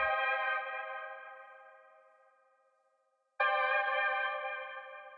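Two dark synth sus2 chords with all notes struck together, each ringing out with a long fading tail, the second hitting abruptly after a brief silence.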